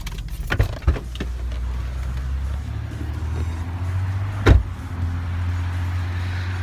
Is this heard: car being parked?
yes